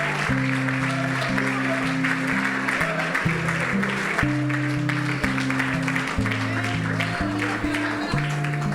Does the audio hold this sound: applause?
yes